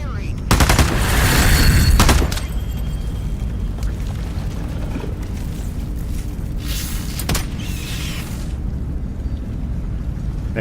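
Gunfire in the VR shooter Into the Radius 2, a loud close burst of rapid shots followed by a few more isolated reports over a constant rumbling game ambience.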